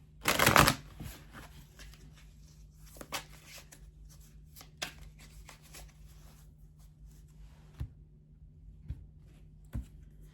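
Oracle cards shuffled during a tarot reading, beginning with a brisk riffle burst, then sparse soft taps and slides of the cards at close range in a quiet room.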